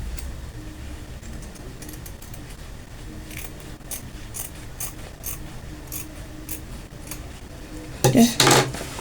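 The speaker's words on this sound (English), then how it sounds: "Now the next thing now to do is to I'll trim off the excess here." Scissors snip through excess fabric while a straight dress is being sewn, giving quiet, scattered clicks and cuts, with a louder burst of clattering handling near the end.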